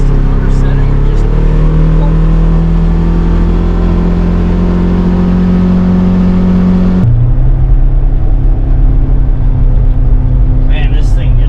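A 2022 Polaris Ranger Northstar Ultimate UTV on modified tires drives with a steady, loud engine drone and hum inside the cab that shifts tone partway through, with a person talking over it.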